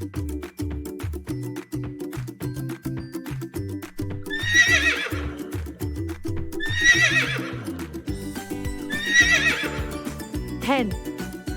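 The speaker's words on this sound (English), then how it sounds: "horse," A horse whinnies three times in long, shrill neighs, loud and near, over upbeat children's music with a brief clip-clop of hooves near the end.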